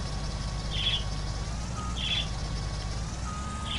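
Two short, high chirps from a bird in a video game, about a second apart, ringing over a steady low ambient hum with a faint tonal background.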